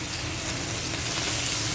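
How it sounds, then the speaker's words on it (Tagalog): Chicken legs frying in hot oil give a steady, dense sizzle, close and even throughout, with no voices. "Pa-fried natin yan dyan guys."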